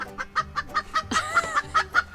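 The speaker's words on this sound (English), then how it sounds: "considering how loud my chickens are being right now" Chickens clucking loudly in quick repeated bursts, with one hen letting out a longer squawking call midway; close and insistent.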